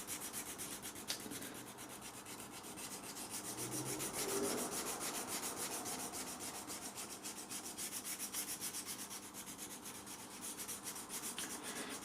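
A flat file rubs steadily along the wooden stock of a lock-action gun, a continuous soft rasping scrape that swells slightly midway, close and alone with no talk.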